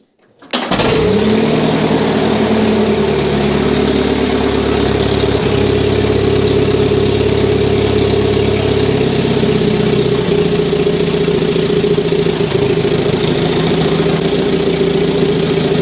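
An old tractor engine from a barn-find restoration, running again after its fuel problem was fixed, starts up and settles into a loud, steady idle that holds for the whole stretch with a slight change in tone partway through.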